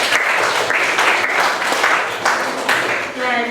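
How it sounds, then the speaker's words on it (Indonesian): Students in a classroom clap for a classmate after a science lesson answer, several uneven bursts of clapping with short dips between them, close and fairly loud. "Oke, tepuk tangan untuk Ari."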